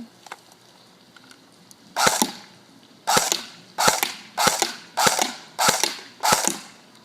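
A Lancer Tactical M4 RIS CQC airsoft gun fires at a target outdoors: seven sharp, snappy shots, one then a pause, then six more spaced about a second apart, each with a short crack and quick decay over faint background hiss.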